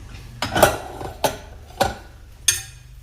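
A metal pot lid being set and shifted on a pot of simmering Kerala curry with colocasia, bottle gourd and tomato, giving four sharp clinks spaced about half a second apart, close and clear over a quiet background.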